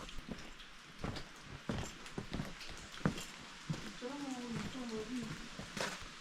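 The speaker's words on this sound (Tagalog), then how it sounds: "It sounds like it is raining in here, but yeah, it is actually because of the, you know, some droplets coming from the rocks" Water droplets fall from rocks in a narrow gap between two large mountain rocks in the Blue Mountains, making scattered irregular taps like light rain, with birdsong in the background.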